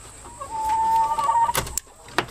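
Chickens in a newly built yard give a short, drawn-out call followed by a few brief clucks and scuffs, nearby and moderately loud, with no speech.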